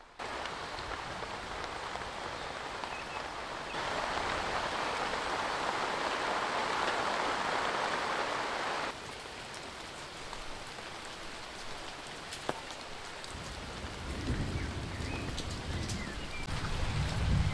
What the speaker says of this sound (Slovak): Dážď bol každou chvíľkou intenzívnejší a intenzívnejší.